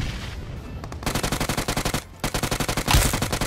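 Rapid bursts of automatic gunfire in a battle royale shooter, loud and close, three quick volleys separated by short pauses, with a sharp thud near the end.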